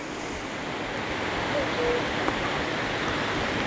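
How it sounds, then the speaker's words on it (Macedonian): Steady rushing of a river flowing below a forested mountainside near Kožuf, a broad, continuous wash of water heard from a distance with no talk. "река."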